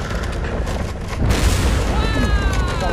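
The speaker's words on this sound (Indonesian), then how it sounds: "Meledak bro." A deep booming explosion in the video game The Devourer: Haunted Souls bursts out midway, loud and rumbling, followed by a sustained roar with whistling, crackling effects, with game background noise throughout.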